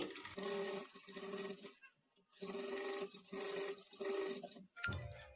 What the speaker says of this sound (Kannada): ಲೈನಿಂಗನ್ನು ನೀಟಾಗಿ ಫೋಲ್ಡ್ ಮಾಡಿಕೊಂಡು ಸ್ಟಿಚ್ ಮಾಡ್ಕೊಳ್ಳಿ